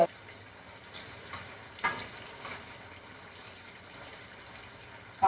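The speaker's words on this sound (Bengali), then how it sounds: "কাঁকড়গুলো ভাজা হচ্ছে" Spiny gourd pieces fry in a pan with a steady, close sizzle, broken by a few sharp stirring clacks, with no talk over it.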